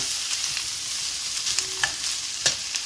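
Chopped onions frying and sizzling in a pan, a steady crackling hiss with a few clicks and scrapes of stirring scattered through it, close by and with no talk.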